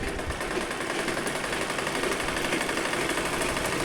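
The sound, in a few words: sewing machine stitching a kurti sleeve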